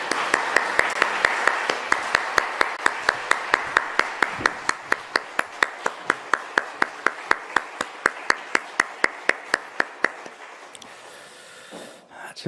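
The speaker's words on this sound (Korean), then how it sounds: "우리 박수로 다시 한번 격려하겠습니다." A church congregation at an early-morning family prayer service claps in a rhythmic unison beat, about four claps per second, steady for ten seconds before stopping abruptly.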